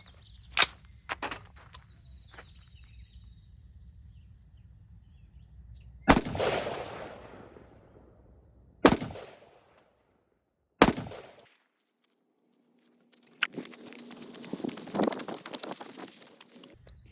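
Three loud, close gunshots are fired at a target while testing an Aimpoint Duty red dot sight, spaced a few seconds apart, each with a short decaying echo, followed by rustling handling noise.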